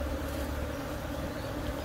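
Honey bees buzz from an open hive during a colony split, a dense and continuous near drone without speech.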